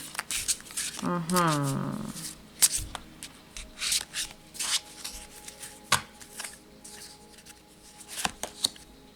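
A tarot card deck being shuffled by hand, a burst of riffling followed by scattered soft card slaps and handling noises, close and fairly quiet with no talking.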